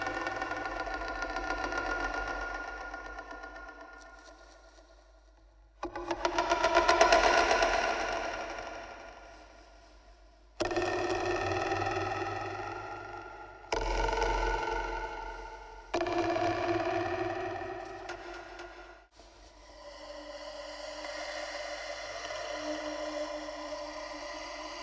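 A homemade horror sound-design instrument played with rulers gives harsh, distorted, droning metallic tones in several separate bursts that swell and cut off abruptly, with rattling, buzzing textures throughout.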